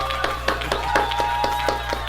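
Steady rhythmic hand clapping from a conference audience at a stage talk on larp, moderately loud with evenly spaced claps and a faint steady hum underneath.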